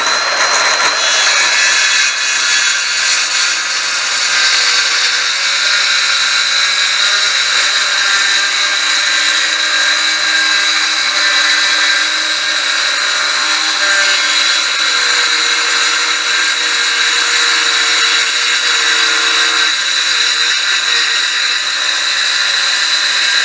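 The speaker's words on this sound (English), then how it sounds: "I'm going to cut the first dado here now." Power tool cutting a dado groove into wood for a workbench and storage build, a steady loud whine with grinding texture running continuously throughout, no talk.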